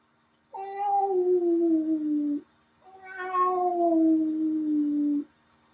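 A human voice imitating a cat meowing: two long, drawn-out meows, each sliding downward in pitch, close and fairly loud, with a short pause between them.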